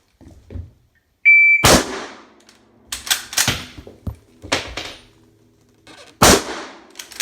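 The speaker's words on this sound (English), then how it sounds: "First shot's going to be from standing." Several sharp, loud rifle shots from a 6.5mm Carcano fired standing, in a Kennedy assassination reenactment, each with a short echoing tail, spaced a couple of seconds apart.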